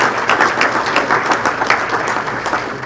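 Audience applause for a panel at an ethics symposium, a dense steady wash of many hands clapping that holds loud and even for about three seconds, with no talking.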